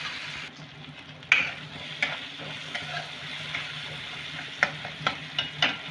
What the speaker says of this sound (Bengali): এবার মশলাগুলোকে আমি 1 থেকে 2 মিনিটের মতন একটু সামান্য কষে নেব।